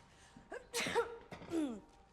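A woman gives a quick sneeze with a sharp breathy burst, framed by a few soft vocal sounds, close to the microphone in a quiet room.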